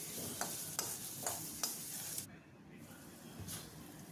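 Chopped onions fry for a kids' sprouted-gram khichdi, giving a quiet sizzle with several crisp stirring scrapes; the sizzle drops away briefly midway, then returns faintly.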